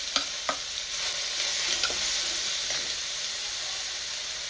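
A paste of green chili, coriander, ginger and garlic sizzles loudly and evenly in a pan, with a few clinks and scrapes of stirring near the start.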